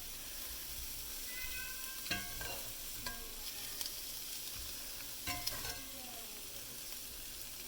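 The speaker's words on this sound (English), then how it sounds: "I'm just going to put it right in the gravy and coat the shrimp with all that gravy" Shrimp sizzles and fries in a pan of gravy, a steady broad hiss with scattered stirring clinks and scrapes from a utensil against the pan, close and fairly quiet throughout.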